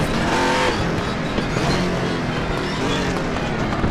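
A race car in the RaceRoom Racing Experience game slides off the road and spins, its engine droning loudly and steadily throughout with a faint rise and fall, with no voices.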